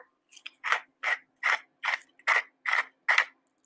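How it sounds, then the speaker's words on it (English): A hand pepper grinder cranks black peppercorns in about eight regular crunchy ratcheting bursts, close and crisp, with quiet gaps between turns and no talking. "And then black pepper, freshly ground, always freshly ground. Let me grab my grinder."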